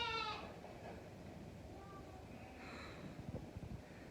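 Lambs in a barn giving a few short, faint bleats over a low breezy background, with scattered soft thumps and rustling near the end.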